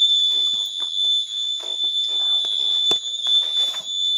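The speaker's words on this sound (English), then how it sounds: "When you pick up this bag, alarm on" An anti-theft luggage bag alarm sounds with a steady, piercing high-pitched electronic tone held throughout, while faint handling noises and brief clicks sit underneath.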